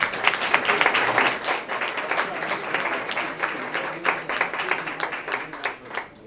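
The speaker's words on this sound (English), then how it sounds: "let's give all our gift sponsors a round of applause" Applause for gift sponsors at a Student of the Month event, an audience clapping briskly and continuously for about six seconds at a fairly even, moderate volume with individual claps standing out.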